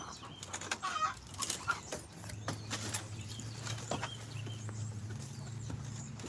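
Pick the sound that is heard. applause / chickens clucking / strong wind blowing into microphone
chickens clucking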